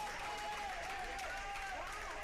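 A crowd reacts at an indoor college tennis team match, a brief murmuring swell with scattered clapping in the arena.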